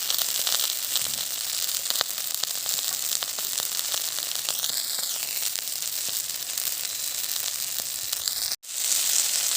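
Fish fries in sesame oil, cooked in a primitive outdoor way, giving a loud, dense, continuous sizzle with crackling pops that briefly cuts out near the end before resuming.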